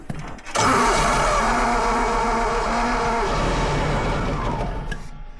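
A small, cold Yanmar gasoline engine in a John Deere 322 runs steadily and loudly after a long time unused, droning with a rough, even tone for several seconds before tapering off and cutting out.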